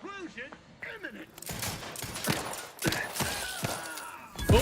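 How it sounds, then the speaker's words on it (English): A grenade explodes in the video game Outer Worlds 2, a burst of loud, broadband blasts and crackling debris that follows a voice. The racket keeps going with repeated sharp hits through the end. "Oh, they grenaded me."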